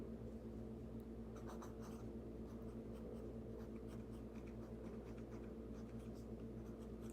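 Faint scratchy strokes of writing on a board in a calculus lesson, short irregular marks over a steady low hum, with no talking.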